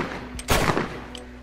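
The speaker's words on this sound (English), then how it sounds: "he decides to shoot the stranger" A single gunshot fired at a stranger cracks out sharply and close, followed by a short decaying echo and a faint later tap.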